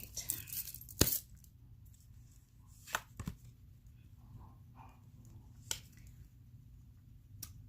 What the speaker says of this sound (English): I'm telling you, cards are falling out.